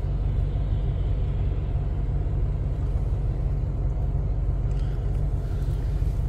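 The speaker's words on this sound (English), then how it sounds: "got the truck warming up" A truck engine idling as it warms up on a snowy winter day, a steady low rumble that holds evenly throughout with no voices.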